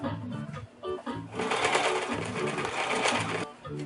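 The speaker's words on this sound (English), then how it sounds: "So I'm stitching the other side now, and I'm removing my pins." A sewing machine stitching the cuff of men's pants, a rapid mechanical whirring burst in the middle with quieter starts and stops around it, close up, with someone talking over the opening and closing moments.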